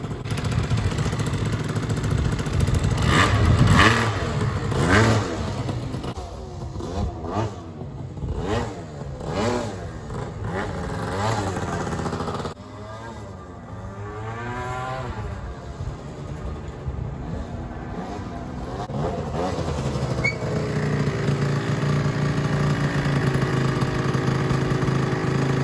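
A Yamaha Jog scooter with a Minarelli engine warms up, buzzing close and loud through repeated sharp revs that fall back to a rattly idle, then a steadier higher drone.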